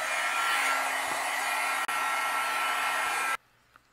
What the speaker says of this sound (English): And then I'm going to use my heat gun, and we will melt that embossing powder.